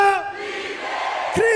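A church congregation at a youth conference yells a single response word together, a loud sustained crowd shout after the preacher's call, then a fresh cry starting at the close.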